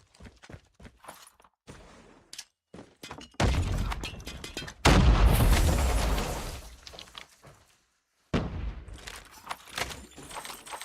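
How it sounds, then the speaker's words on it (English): Gunfire and a grenade blast in Call of Duty Mobile: scattered sharp shots give way to a loud, broad explosion that rumbles and decays over a couple of seconds, followed by more bursts of fire. "Grenade out!"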